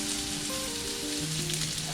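Bacon fries in a pan, its fat rendering out in a constant close sizzle and spatter with no speech over it.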